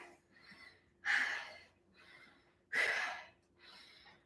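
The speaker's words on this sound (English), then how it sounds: "Breathe, breathe, breathe." Heavy breathing after a set of glute exercises: two loud, close gasping inhales alternate with softer exhales in a slow, steady rhythm, with no talking.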